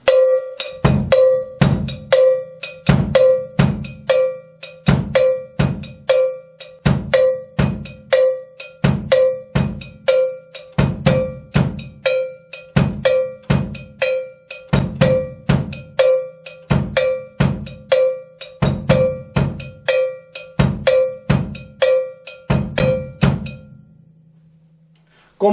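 A drum-kit cowbell plays a steady rumba pattern over a bass drum tumbao, bright close strikes interlocking with low kick thumps, loud and continuous for the whole stretch with no voices.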